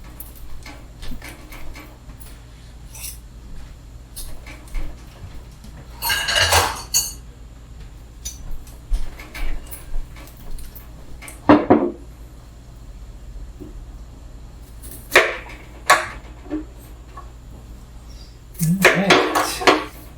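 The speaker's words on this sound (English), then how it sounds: "I'm going to chop them up and put them in my batter bowl" Pears being chopped on a board for ginger pear jam and dropped into a batter bowl, scattered knife taps and clinks with several louder bursts of clattering, close, separated by quiet stretches.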